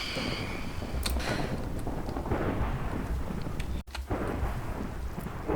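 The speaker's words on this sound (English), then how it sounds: "the thunder's less than ideal" Thunder rumbles in the Minecraft video game during a storm, a low heavy roll mixed with steady rain noise that fills the whole stretch, with a brief dropout near the end and no talking.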